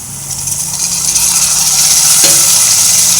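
Chopped tomatoes added to a pan of onions with ginger-garlic paste, hissing and sizzling as they fry, a steady close hiss with a brief stir near the end and no talking.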